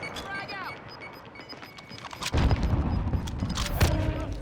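A frag grenade goes off in Call of Duty, a sudden loud, near boom that swells into a broad rumbling blast and keeps roaring for about two seconds, with game sounds before it.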